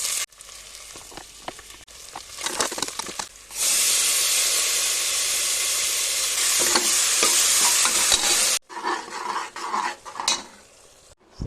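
Chopped onion, garlic, tomato, chili and fenugreek hiss and sizzle loudly in hot oil for khichdi. Several seconds of steady sizzling come between intermittent stirring scrapes and clinks of a utensil against the pot.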